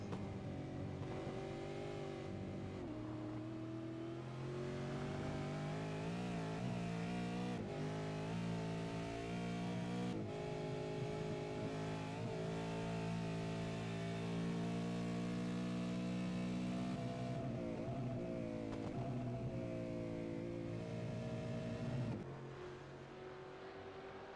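A Mustang V8 race car circulating Road Atlanta in an East Coast V8 series round: sustained loud engine drone with shifting pitch as it accelerates and lifts, continuous for about twenty-four seconds.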